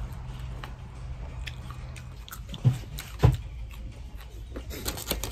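Crunchy green mango bitten twice, two sharp crisp crunches near the middle over a steady low background hum, with faint chewing between.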